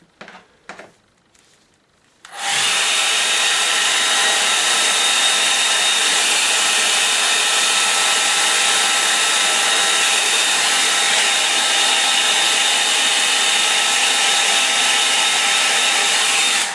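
A hair dryer switches on and blows continuously at close range over a watercolour painting of a misty winter scene, a loud steady whooshing hum after a few quiet brush and handling taps.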